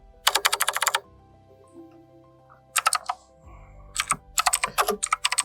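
Bursts of rapid computer keyboard typing, close and crisp, in three or four quick clusters separated by short pauses.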